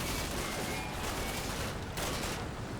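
A PK machine gun fires in a Cold War combat game, sustained close-range bursts in a dense, loud rattling fusillade against an armored vehicle, continuous for the full few seconds with no speech.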